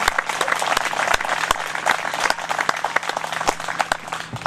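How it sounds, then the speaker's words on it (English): Steady applause from an outdoor audience at a Hyde Park Memorial Day ceremony honoring fallen soldiers, with sharp, close hand claps standing out over a dense wash of clapping throughout. "Let's hear a round of applause for all the brave soldiers who gave their lives to defend our great nation today."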